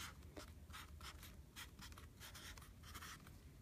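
Pen scratching out short handwritten strokes on a glued photo board book page, quick repeated scribbles, close and quiet.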